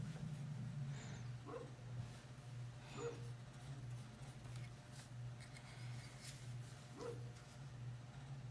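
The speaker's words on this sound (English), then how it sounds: "He's just barking to bark." A dog barks in a few separate short woofs and yips spaced seconds apart, moderately distant and fairly faint, over a steady low electrical hum in a quiet home with no speech.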